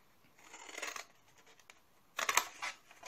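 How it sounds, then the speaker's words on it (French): Scissors cut through paper while making a small Christmas gift box, with two bursts of close crisp cutting and rustling separated by a short pause. "Alors ensuite, je vais couper."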